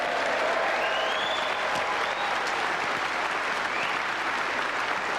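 An audience applauds a snooker trick shot at a 1992 trick-shot championship, with sustained, dense clapping from a large crowd at an even level throughout.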